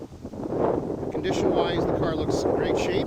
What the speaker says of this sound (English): Sorry about the wind, very windy today.